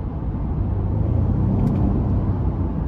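A 2023 Honda Pilot EX-L's 3.5-liter V6 in sport mode, a steady, close cabin drone and rumble that holds constant with no voices.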